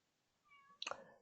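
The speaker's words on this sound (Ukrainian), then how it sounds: "чому кіт у мене нявкає там десь на вулиці" A single cat meows outdoors somewhere along a street, faint and distant, with a short rising tone followed by a sharper cry, heard alone in a quiet room.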